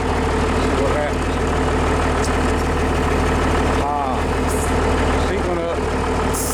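A 1977 Freightliner cabover truck engine runs at a loud, steady idle close by, with people talking intermittently over it.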